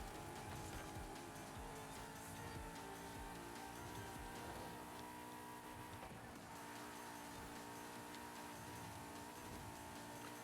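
A car in Forza Horizon 5 drives with a steady, continuous engine drone and road noise at an even, fairly quiet level throughout, with no talking.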